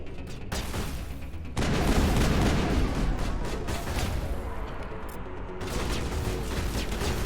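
Dense gunfire against Geth in the Mass Effect video game, a loud continuous barrage of shots and booms that swells midway and keeps rattling without pause.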